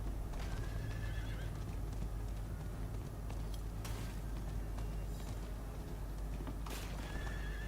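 A horse in the video game Diablo IV neighs and whinnies while its hooves clip-clop steadily, loud and close over a dense rumbling background.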